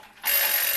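A painting timer's alarm goes off at the end of a five-minute session, cutting in abruptly after a brief hush as a loud, steady electronic ringing close by.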